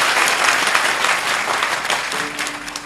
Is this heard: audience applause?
yes